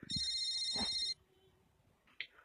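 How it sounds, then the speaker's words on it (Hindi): A phone rings with a bright electronic ringtone for about a second, then cuts off, leaving quiet room noise and a brief faint click, close and clear with no talking. "उन्हीं का फोन है।"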